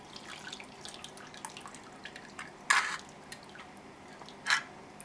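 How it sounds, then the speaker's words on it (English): Water trickles and splashes softly while parts of a John Deere weed whipper are rinsed, with faint drips and a couple of louder sudden splashes. "I'll rinse it all off with water"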